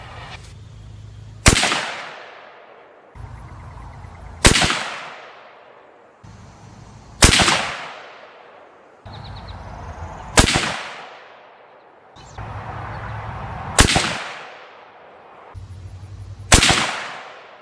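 A Ruger American .30-06 rifle fires Norma Whitetail ammunition outdoors, six loud, sharp shots spaced about three seconds apart, each followed by a decaying echo, with no talking.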